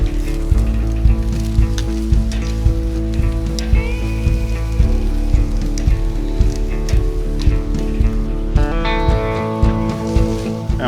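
Seasoned tri-tip steaks sizzle on a hot charcoal grill, a loud, steady crackle with scattered pops and clicks of tongs throughout.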